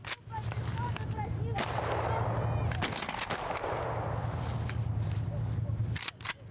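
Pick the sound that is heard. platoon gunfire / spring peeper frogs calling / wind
platoon gunfire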